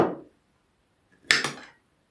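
A knife slices a pineapple into small pieces, giving a brief cut at the start and then, after a pause, a second louder chopping burst lasting under half a second, close and clear with no talking.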